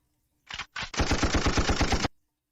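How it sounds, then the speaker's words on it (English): A gunshot sound effect plays on its own: two short separate shots, then a rapid burst of about a dozen evenly spaced, loud cracks like automatic fire, ending abruptly into silence. "This one's called Gunshot."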